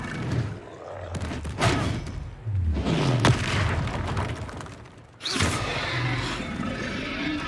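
A Confringo blasting spell bursts in Hogwarts Legacy, a booming explosion with a rumbling tail amid other crashes and thuds of a fight, followed after a brief dip by a second loud blast.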